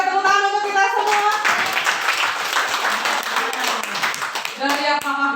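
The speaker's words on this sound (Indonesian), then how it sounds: "Luar biasa, saya tepuk tangan untuk kita semua." Audience applause at a school staff gathering: steady clapping from many hands fills most of the stretch, with voices talking and calling out over it near the start and end.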